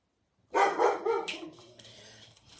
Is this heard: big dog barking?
yes